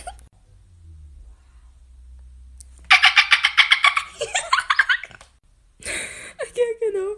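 A person imitates a dolphin with a fast series of loud, squeaky clicking chirps, a pause, then another burst of high whistling squeals.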